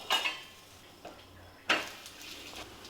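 A flatbread is flipped on a hot pan, giving a few short clinking and tapping contacts: a sharp one near the start, a softer knock, then another clear clack, all close and without talk.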